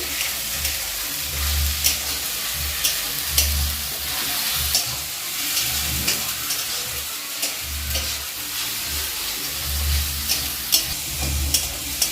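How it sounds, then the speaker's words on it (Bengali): Onion frying in a pan for a mustard prawn dish, a steady loud sizzle with regular scraping strokes of a spatula, close and continuous with no talking. "পেঁয়াজটা ভালো করে ভেজে নেব আমি"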